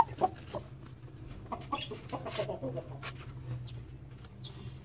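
A broody hen sitting on her eggs clucks in short, soft bursts at close range, with other fowl calling faintly around her and a steady low hum underneath.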